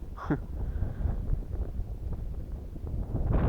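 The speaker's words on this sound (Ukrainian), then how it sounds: "Блін, дує вітруган, я не знаю, вам певно там так задуває капець." Strong wind buffets a microphone outdoors during metal detecting, a low rumbling roar that swells toward the end, with a crow cawing once near the start.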